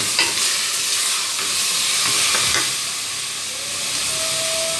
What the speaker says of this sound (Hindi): चिकन सारा डाल देना है इसमें और अच्छे से चिकन को फ्राई करना है।